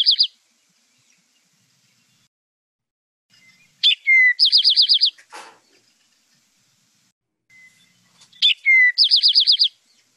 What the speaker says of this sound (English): Here's the eastern towhee.